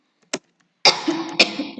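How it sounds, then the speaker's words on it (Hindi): A man's cough during a spoken SQL tutorial: one short isolated cough, then a longer rough burst of coughing and throat noise, close and fairly loud, with no talk over it. "आई एम सो सॉरी मुझे थोड़ी खांसी है"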